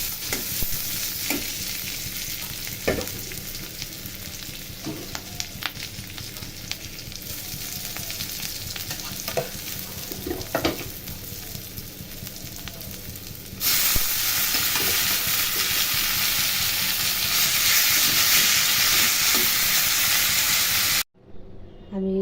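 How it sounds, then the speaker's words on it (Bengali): Bottle gourd greens stir-fried in hot oil in a pan, giving a steady crackling sizzle with scattered stirring scrapes and clicks that grows louder and denser partway through, then cuts off briefly near the end. "লাউ শাকটা এভাবে বাগার দিতেছি"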